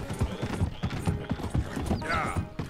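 Horse hooves clip-clop steadily with creaking tack and a short whinny in the open-world western video game Red Dead Redemption 2, moderately close with no talk.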